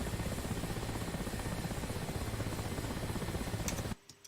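Helicopter rotor in the Whirlybirds 3 video game, a close, steady chopping rotor drone that runs evenly and then cuts off abruptly near the end, leaving a few soft clicks.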